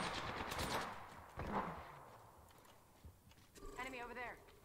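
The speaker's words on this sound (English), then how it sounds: "Getting shot at." Automatic gunfire in the video game Apex Legends, rapid bursts of shots in the first seconds and again near the end, with game effects and a voice talking over the action.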